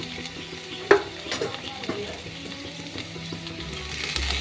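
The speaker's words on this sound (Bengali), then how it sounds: "আবারও ভালো করে নাড়িয়ে নেব।" Potatoes with chopped tomato, salt and turmeric are stirred in a frying pan, a spatula scrape and clink over a constant sizzle, with repeated scraping strokes through the frying.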